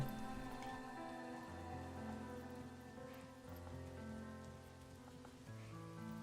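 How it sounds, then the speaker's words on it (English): Soft, steady rain patters in the video game Manor Lords beneath quiet sustained musical tones, with no talking. "Been raining a lot."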